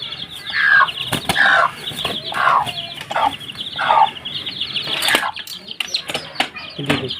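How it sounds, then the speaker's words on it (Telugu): A mother hen clucks repeatedly in a series of close, loud bursts, with sharp knocks and small bird noises mixed in along the way. "9 పిల్లలు అయితే చేసింది మా పెట్ట"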